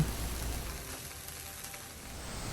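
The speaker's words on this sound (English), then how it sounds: "Place onion and dry squid on a hot non-stick skillet." Onion and dried squid sear on a hot non-stick skillet, a soft, steady hiss and light crackle, faint and close, with no talking.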